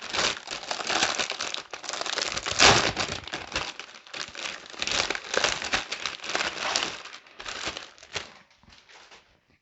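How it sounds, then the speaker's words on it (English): A Warhammer Age of Sigmar Stormbringer issue 5 magazine pack, bundled with a model and dice, is handled and opened up close. Continuous crinkly wrapper rustling comes in uneven bursts and fades out near the end. "So let's take a look inside the magazine."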